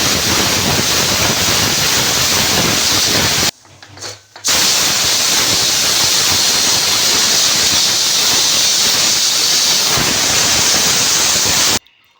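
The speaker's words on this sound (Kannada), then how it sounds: "ಈಗ ಲೀಡ್ ಕ್ಲೋಸ್ ಮಾಡಿ ವಿಷಲ್ ಬರ್ಸ್ಕೊಳ್ಳೋಣ" A pressure cooker on the stove, cooking a mung bean dish with eggs inside, vents steam in a loud, continuous hiss that cuts out briefly near the start, then resumes strongly and stops abruptly at the end.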